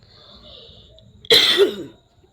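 A man gives one sharp cough followed by a throat clear, close and loud, after a quiet stretch with a faint tone in the background.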